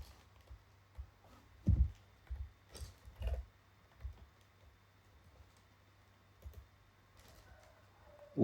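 A computer mouse clicks several times at close range in a quiet room, short sharp taps scattered irregularly, with a tight cluster around the two-to-three-second mark and a last click at the end.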